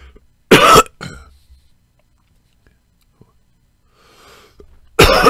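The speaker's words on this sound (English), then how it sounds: "Sorry, cough in your ears, guys." A person coughs sharply twice, close to the microphone, with one cough near the start and another at the end, separated by near silence and faint breathy mouth sounds.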